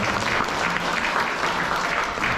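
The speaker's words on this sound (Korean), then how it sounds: "축복의 박수 부탁 말씀 드립니다" Wedding guests applauding the bride and groom at a Korean wedding ceremony, a loud, dense, continuous burst of clapping from a large crowd that fills the whole moment.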